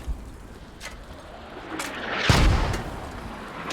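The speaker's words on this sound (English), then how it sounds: "Sounds like mortars are already starting to come down." Mortar shells land at a distance in the Squad military game, a dull muffled boom swelling near the middle of a quiet stretch, with fainter thuds and background rumble around it.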